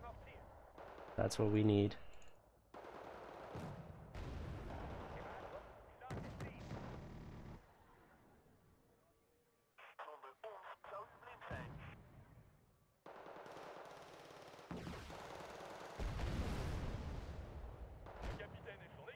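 Artillery and gunfire in the strategy game Wargame: Red Dragon, with repeated booming bursts and rattling shots that come and go across the stretch, while someone talks over the action.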